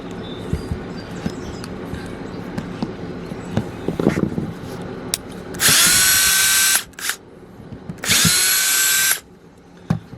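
A power drill with a 1/4 inch hex drive backs hex screws out of a sewer vent on an RV roof, two sustained loud whirring bursts after a stretch of quieter handling and clatter.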